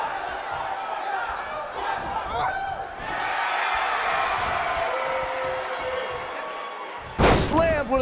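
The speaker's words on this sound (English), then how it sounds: "Slammed with authority." A wrestler slammed hard to the mat in a WWE 2K wrestling video game: crowd noise and commentary throughout, then one loud sharp impact near the end.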